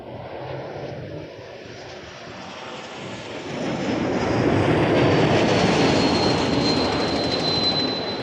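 An Airbus A350 airliner takes off from runway 05 at Toronto Pearson, its jet roar building from a distant rumble to a loud, sustained blast with a high engine whine.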